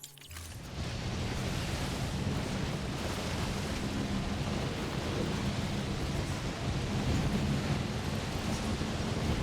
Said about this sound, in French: Telle tempête là où je suis, bordel.